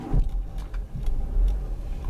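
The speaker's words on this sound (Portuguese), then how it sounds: "O carro pega." A 2008 Renault Megane Expression 1.6 16v flex-fuel engine starting by push-button, a short low crank catching into a steady idle rumble, close and fairly loud with no talk.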